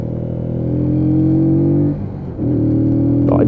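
A Keeway K-Lite 125cc motorcycle idles and revs with a deep, steady exhaust grumble close by, dipping briefly before picking back up, with no talking.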